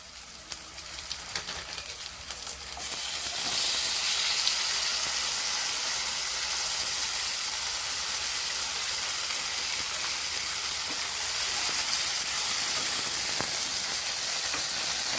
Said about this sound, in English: Now we're going to add these other vegetables we got to it. We're going to saute them down.